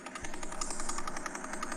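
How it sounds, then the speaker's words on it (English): The Vela pulsar's radio signal, converted to sound, pulses as a fast, steady buzzing throb about eleven times per second, continuous and moderately loud for a short stretch. "Now, up next, we have one that's going a little faster. We have the Vela pulsar."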